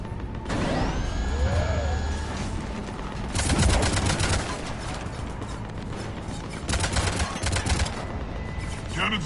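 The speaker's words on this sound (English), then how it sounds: "Cannons engaging." Cannons fire in the video game Mass Effect 3, loud bursts of rapid booming shots in two or three volleys separated by mechanical whirring and clanking.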